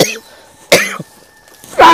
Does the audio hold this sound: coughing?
yes